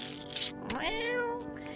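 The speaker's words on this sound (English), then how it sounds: "Hey, kitty!" A video game cat meows once in a rising then falling cry lasting nearly a second, clear and close over a quiet background hum.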